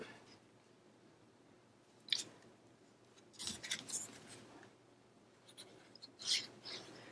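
Scissors trim cardstock pieces for a Graphic 45 Couture scrapbook page, three short crisp snipping bursts separated by quiet gaps, close and fairly soft with no talking.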